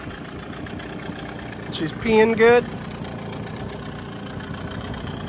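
Hangkai 18hp two-stroke outboard motor idling during break-in, a steady low drone running throughout with a brief burst of speech over it partway through.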